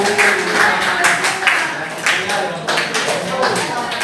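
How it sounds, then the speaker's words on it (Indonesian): A classroom of students applauds a classmate with a few seconds of lively, dense clapping, fairly close and loud, with voices mixed in. "tepuk tangan untuk temannya"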